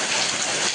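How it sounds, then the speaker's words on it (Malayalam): Steady rain falls on a rainy morning at home, a dense, even hiss that fills the whole short moment with no voices over it. "ഈ മഴ കുറച്ചൊന്ന് തോരട്ടെ എന്നിട്ട് പോവാന്ന് പറഞ്ഞതാ."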